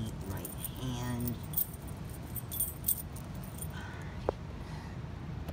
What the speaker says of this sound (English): Let me just get my keys in the right hand.